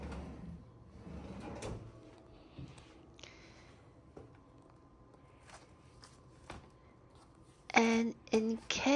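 Hotel room drawers slide open and shut with soft knocks and scrapes, ending in a few sharp, louder thuds close by. Faint room noise sits under the sounds.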